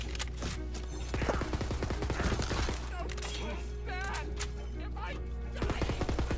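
Bursts of rapid gunfire from the video game Tiny Tina's Wonderlands, sharp repeated shots in clusters alongside game voices and other in-game sound effects.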